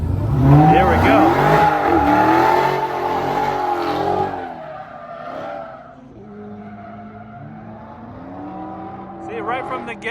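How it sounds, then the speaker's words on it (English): A race car at Speed Vegas launches hard, its tires squealing and engine roaring loudly before fading into the distance as someone speaks over it. "Not even out of the gate and they're already roasting the tires"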